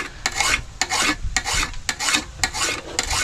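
A hand file rasps back and forth on a chainsaw chain, sharpening it in steady, repeated strokes, close and loud, with no voices.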